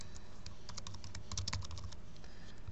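Someone typing on a computer keyboard, with a quick run of close, light key clicks in bursts over a low background hum.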